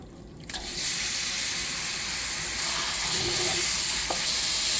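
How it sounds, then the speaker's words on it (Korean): Beef stir-frying in a mix of olive oil and sesame oil for spicy Korean beef yukgaejang, a steady broadband sizzle that stays loud and continuous throughout with a faint clink near the end, no talking. "참기름도 같이 좀 붓고 이제 고기를 볶을 거예요."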